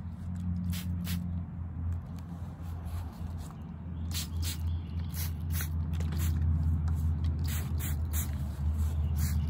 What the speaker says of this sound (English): So I am going to spray the base of my plants.